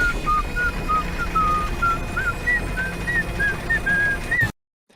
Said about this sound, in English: He's whistling it when he's locking up their car, when he's tying up the car.